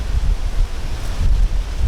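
Steady wind gusting across the microphone on a hot day in Oklahoma, a continuous low rumble and buffeting with no voices.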